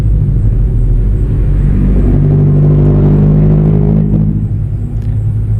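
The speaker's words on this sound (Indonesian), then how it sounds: "Nah banyak ya mobil truk yang lewat gitu." Cars and trucks pass close by on a road in a steady, heavy rumble, with a deep engine drone swelling and fading as a large vehicle goes past.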